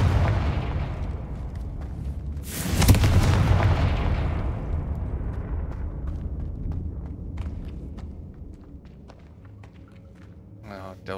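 A Confringo blasting spell explodes in Hogwarts Legacy, a loud burst with a long rumbling decay that fades over several seconds, followed by quieter game sounds and small clicks.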